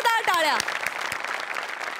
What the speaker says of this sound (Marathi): गेटअपसाठी जोरदार टाळ्या